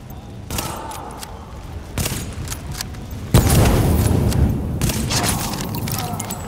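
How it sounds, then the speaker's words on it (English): Grenade blasts and gunfire in the video game The Division, with booming thumps and a sustained loud rumble of explosions and shooting, fairly close and continuous. "He's throwing a lot of grenades"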